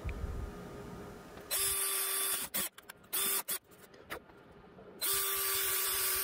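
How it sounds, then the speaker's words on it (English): A small power drill whirs steadily, then stutters in short bursts as it bites through a wooden guitar body, before running smoothly again at full speed. "Just drill a little hole for it."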